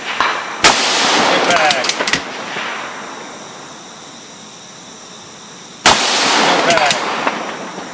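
Two loud rifle shots at long-range targets, one near the start and another about five seconds later, each a sharp crack with a long echoing decay across open ground, with a brief spoken voice between them.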